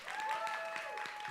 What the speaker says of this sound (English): will you keep that applause going for all the artists you've seen tonight?